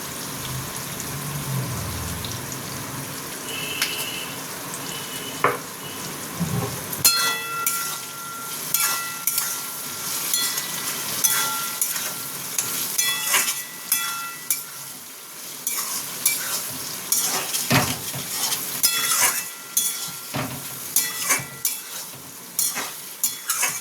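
Chili chicken frying in a pan with tomato sauce added, a steady loud sizzle running throughout with repeated scraping and stirring clatter of the utensil against the pan.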